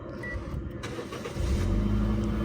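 A 2010 Toyota Yaris 1.5 starts by push button: a brief cranking whir, then the engine catches and settles into a steady, close idle.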